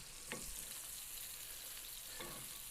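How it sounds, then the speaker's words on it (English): Polenta frying in a hot pan, a steady broadband sizzle throughout with two brief louder spatters, close and alone without talk. "So we're going to get our pan hot, ready for frying the polenta."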